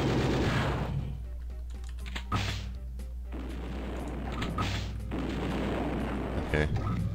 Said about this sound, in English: Is this a plasma gun?